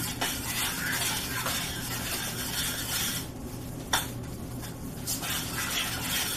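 Macaroni and cheese is mixed in a pot with a spoon, giving a continuous close rubbing and scraping with a soft sizzle underneath, broken by a few brief pauses and a single sharper knock.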